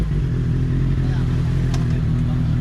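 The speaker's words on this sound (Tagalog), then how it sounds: "Start mo na yung makina." A motorcycle engine running close by on Marilaque Road, a steady loud low idle with a faint clatter and slight revving, with a voice in the background.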